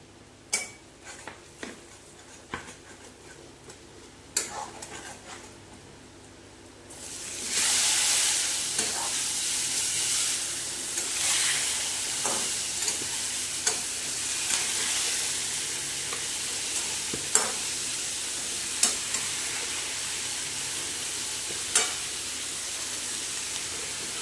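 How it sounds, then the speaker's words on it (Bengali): Water lily stems are stir-fried in a spice paste in a pan: a few scrapes and taps, then a loud, steady sizzle that starts suddenly and continues with repeated stirring clinks and scrapes. "এইবারে কেটে রাখা মানে শাপলাগুলো দিয়ে দিয়ে কষে নেবে।"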